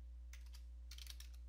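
Two quick clusters of keystrokes on a computer keyboard, crisp close clicks over a constant low electrical hum, with a short pause between the bursts.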